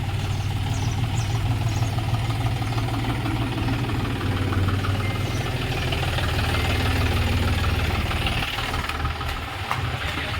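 A freshly serviced farm tractor engine idles steadily nearby, a loud continuous low rumble with a hissy edge and no voices.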